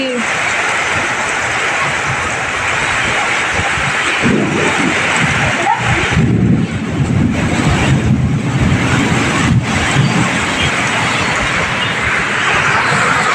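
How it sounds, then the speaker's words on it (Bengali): Heavy rain pours down in a dense, steady roar during a thunderstorm, with low rumbles of thunder rolling through. A person talks over the storm. "কি মেঘ ডাকছে দেখুন, প্রচুর মেঘ, কি ঝড় বৃষ্টি, সে প্রচন্ড বৃষ্টি।"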